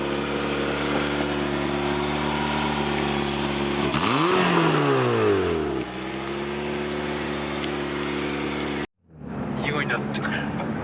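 A Toyota MR2 Turbo engine revs loudly while driving, its steady drone rising and falling through a sharp rev swell before settling, then cutting out briefly and returning close up.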